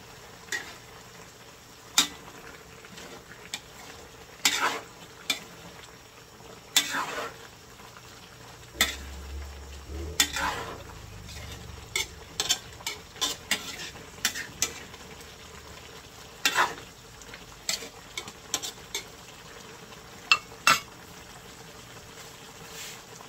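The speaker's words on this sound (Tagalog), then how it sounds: "Ilalagay ko na po itong malunggay. Ito po nahugasan ko na. Akin lang pong hahaluin." Chicken tinola with malunggay leaves being stirred in a pot, with repeated clinks and scrapes of a utensil against the pot over a soft simmering hiss, heard alone without talk.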